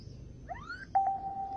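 A mini Bluetooth MP3 lamp speaker powers up with a short startup chime: two quick upward-sweeping tones, then a steady held beep. It is clear and fairly quiet against a near-silent background.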